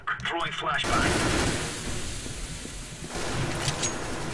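Gunfire in a fast-paced competitive video game match, a burst of rapid shots and cracks followed by lingering noise, with a player talking over it.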